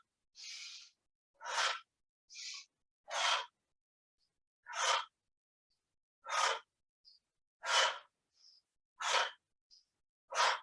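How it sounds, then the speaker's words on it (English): Deep, rhythmic breaths in and out during a circuit exercise class, about eight loud breathy bursts spaced roughly a second or two apart, alone with no talking. "let's take a deep breath in"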